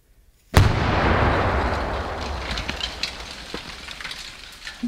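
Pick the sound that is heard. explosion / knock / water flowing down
explosion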